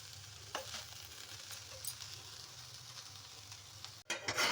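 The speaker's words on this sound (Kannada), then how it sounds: "ನಾವು ಸಾರಿಗೆ ಸಾಂಬಾರಿಗೆ ಒಗ್ಗರಣೆ ರೆಡಿ ಮಾಡ್ಕೊಳ್ಳೋಣ" Hot oil sizzles and crackles steadily at close range as spices temper for a horse gram curry in a pressure cooker, with a few sharp pops and a louder burst of frying near the end.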